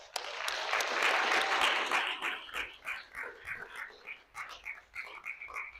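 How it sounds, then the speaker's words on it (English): A room full of people applauds at a freshman class speech event, with dense clapping that swells, then thins into scattered, uneven claps as it fades. "Please give another round of applause."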